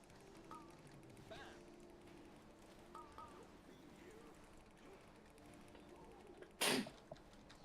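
A single sharp sneeze near the microphone, alone against a faint background of game effects and music in World of Warcraft.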